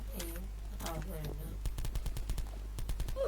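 Rapid gunfire from a video game, a burst of sharp repeated shots in a quick rhythm after a stretch of game background noise, fairly loud and close, with no talking over it.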